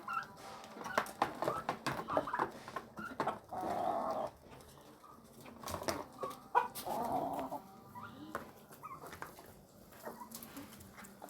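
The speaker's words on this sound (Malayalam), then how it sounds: "മുയലുകളും കോഴിയും നമ്മുടെ ഫ്രണ്ട്ലി ആയിട്ട് വന്ന് കഴിക്കുന്നുണ്ട്" Chickens cluck in irregular bursts while feeding next to rabbits, moderately close, with quieter gaps between the runs of calls.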